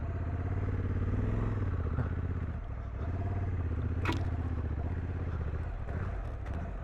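A heavy Honda Africa Twin adventure bike on off-road street tires grinds along rough terrain, its mid-pitched engine droning steadily with bursts of throttle and a sharp clatter of gear and stones partway through; a rider talks over it at times.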